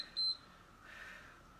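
A single short electronic interval-timer beep chimes during a HIIT circuit workout, clear but brief, then fades into quiet room tone.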